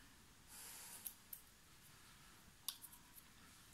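Faint, crisp scissor snips trim glossy paper, a few scattered clicks in two small clusters against a quiet background.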